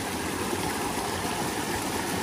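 A strong current of water rushes through an opened beaver dam, a steady, dense broadband roar of flowing water, continuous and unbroken, with no voices.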